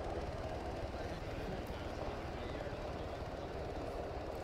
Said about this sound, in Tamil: செம்ம ஹெவியான ஹெலிகாப்டர் இதெல்லாம்.